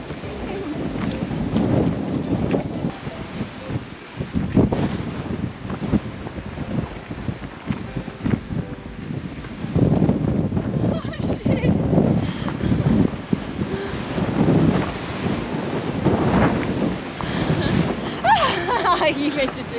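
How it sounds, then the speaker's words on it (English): Strong gusty wind at the base of Uluru, Australia, buffets the microphone with heavy low rumbling that rises and falls throughout, and people speak intermittently underneath. "Feels pretty windy already."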